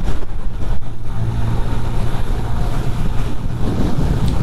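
Strong gusting wind buffets the microphone on a mountain road in Naltar Valley, Gilgit-Baltistan, during a motorbike tour, a loud continuous low roar with a steady rumble and no speech.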